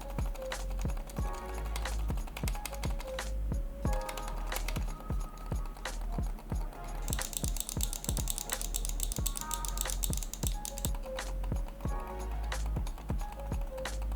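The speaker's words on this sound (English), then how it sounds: "It has silent click buttons, which is a great feature." Soft, rapid clicking and tapping of the silent buttons on a Seenda vertical ergonomic mouse continues steadily throughout, quiet and close, resembling muted button presses.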